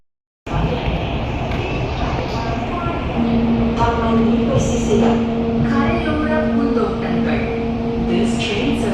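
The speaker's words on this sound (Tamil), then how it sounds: "ஸோ ட்ரெயின் வந்து மூவ் ஆகிடும்." A Singapore MRT train pulls away from the platform, its motor whine rising steadily over a loud carriage rumble, with a faint murmur of passengers around.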